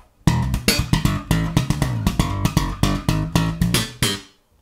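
Slap bass riff, second part, played alone on electric bass: a busy run of sharp slapped and popped notes with percussive muted hits in a tight, steady funk rhythm, close and loud.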